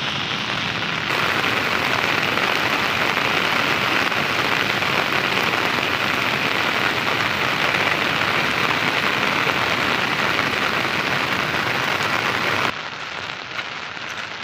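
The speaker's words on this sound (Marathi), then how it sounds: "खूप जास्त पाऊस आहे आणि पूर्ण भिजलो आहे बघा" Heavy monsoon rain pours down in a village, a dense, loud, unbroken roar of drops striking surfaces from start to finish, easing only slightly in the last seconds.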